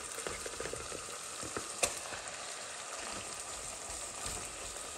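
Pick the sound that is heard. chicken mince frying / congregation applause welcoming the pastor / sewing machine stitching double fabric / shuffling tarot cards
chicken mince frying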